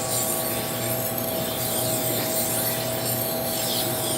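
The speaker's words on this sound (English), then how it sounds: "Every time I sharpen this knife now, at this setting, I'll have a nice edge." Steady rasping of a knife blade drawn across an abrasive held at a fixed sharpening angle, a continuous close scraping with no pauses and no talk.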